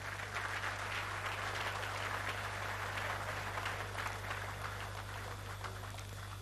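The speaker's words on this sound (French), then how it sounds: "de ces boursiers pour lesquels on peut encore applaudir, s'il vous plaît." An audience at a scholarship award ceremony applauds through the whole stretch, a soft, distant wash of clapping over a constant low electrical hum, with no voices on top.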